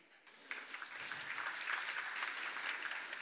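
Audience applause, moderately faint and steady, a soft continuous patter of many hands that swells slightly and holds without pause.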